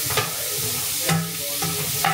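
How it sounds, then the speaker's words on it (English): Onions sautéing in a Ninja Possible Cooker on its sauté setting give a steady close sizzle, with a few brief louder scrapes of stirring; no talking. "browning off onions and searing the meat is what you should do before putting anything into a slow cooker"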